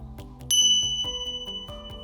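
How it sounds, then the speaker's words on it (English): A single clear bell ding strikes and rings out with a bright sustained tone, over a faint repeating background beat, in a yoga class setting. "That was a ding."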